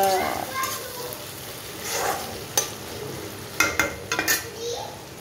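Onion and green chili fry in hot oil with cumin seeds. A moderate sizzle is broken by several sharp spatula knocks and scrapes against the pan, with faint voices in the background.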